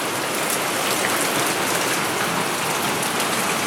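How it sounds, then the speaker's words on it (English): Heavy rain pours down steadily and loudly, a dense, unbroken hiss of drops striking the surfaces close by, with no voices. "There's so much rain coming that we can't even see that range."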